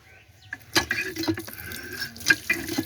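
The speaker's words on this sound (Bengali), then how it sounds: "দাঁড়ান আমি একটু পাটা ধুয়ে যাই, আমার পায়ে ময়লা লেগেছে" Splashing water as someone washes dirt off their feet outdoors, heard as uneven slaps and trickles that come close and irregular for a few seconds with no talking.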